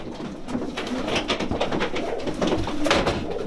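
Racing pigeons at a loft coo in soft, overlapping throaty calls that stay close and steady throughout, with no talking.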